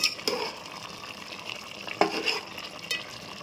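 Vegetables simmer in hot oil with a tempering for Andhra-style sambar, giving a steady soft sizzle with a few sharp stirring scrapes and clinks of a spoon against the pot.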